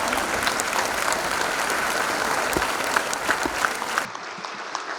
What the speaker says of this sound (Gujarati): સ્ટેન્ડિંગ ઓવેશન આપો પ્લીઝ આ ત્રણેય જણા માટે